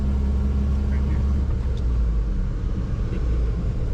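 A Toyota truck with a louder custom exhaust idles close by, giving a steady low rumble that stays even throughout.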